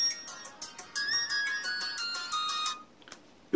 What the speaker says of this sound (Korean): 전화 오는데